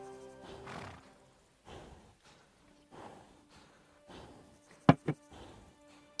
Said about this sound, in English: Horse, why are you making the sound?